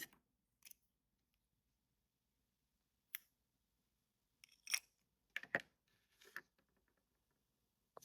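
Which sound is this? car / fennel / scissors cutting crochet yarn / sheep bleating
scissors cutting crochet yarn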